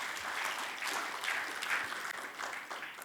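A church congregation claps at an Ascension Day service, a dense, steady round of applause lasting a few seconds, heard somewhat distant and alone.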